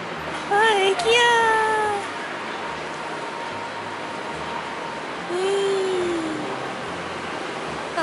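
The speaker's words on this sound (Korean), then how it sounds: "고양이." A cat meows several times close by, a quick rising series of cries followed by a longer drawn-out meow, over a low background hum.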